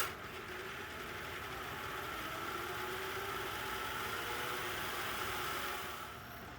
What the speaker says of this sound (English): I just have to see if the run motor is any good.